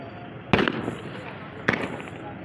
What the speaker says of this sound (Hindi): बहुत ज़्यादा फायरिंग हो रही है